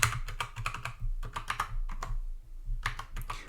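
A password typed on a computer keyboard, steady close-up key clicks in quick irregular bursts with brief pauses, no voices.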